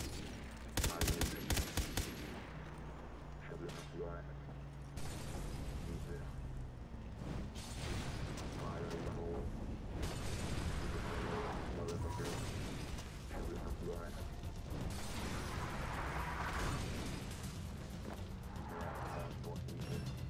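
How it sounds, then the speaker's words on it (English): Gunfire in Far Cry 3 Blood Dragon, bursts of shots and mechanical clatter under a dense game mix with music and effects, with talk over it in places. "I just hear somebody shooting at me"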